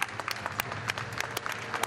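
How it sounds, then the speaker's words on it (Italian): Scattered applause from people and scouts welcoming an arriving elected bishop at an outdoor ordination gathering, with sharp individual claps standing out over a steady crowd murmur. "Applauso delle persone, scout, del Masci"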